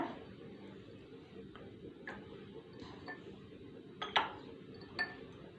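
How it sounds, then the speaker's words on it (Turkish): Cubes of frozen red cabbage juice drop into glasses one by one, giving a few sparse, light clinks and ticks, louder near the end, over a quiet room background. "buzlarımızı her bir bardağımızın içine ekleyeceğim"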